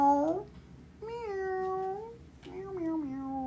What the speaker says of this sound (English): You woke up my cats with that meow, meow, meow,